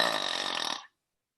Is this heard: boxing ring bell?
no